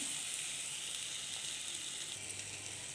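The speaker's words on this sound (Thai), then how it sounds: "เร่งไฟนิดนึงให้ไข่มัน สุกหน่อย ให้ไข่มันสุกหน่อย ทีนี้ไข่แดงยังไม่แตก" Egg frying in a hot pan over raised heat, the yolk still unbroken: a steady, dense, fairly soft sizzle that holds evenly throughout, with no voices.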